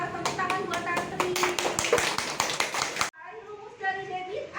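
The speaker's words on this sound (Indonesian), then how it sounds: "Nah, tepuk tangan buat Tantri." Students in a classroom clap for a classmate, a burst of loud, fairly rhythmic hand claps that stops abruptly after about three seconds, followed by quieter room noise with faint voices.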